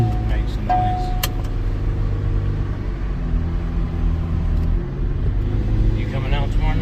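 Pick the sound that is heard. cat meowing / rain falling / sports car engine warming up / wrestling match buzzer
sports car engine warming up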